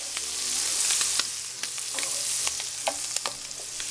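Sweet butter sizzles and spits in a hot pan around seared scallops, a steady close frying hiss dotted with small pops and crackles.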